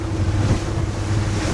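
Rough sea and wind noise from aboard a fishing boat, a constant loud wash of surf and gusty wind buffeting close by.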